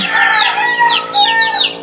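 Chickens cluck and chatter close by, short rising and falling calls overlapping continuously for a couple of seconds.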